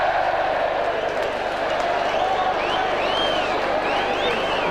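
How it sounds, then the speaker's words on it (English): Spectators at a 1999 Wrexham versus Middlesbrough football match give a steady wash of applause and crowd murmur across the stadium, with a few whistles rising above the noise. "applause for the pass, certainly not for the shot"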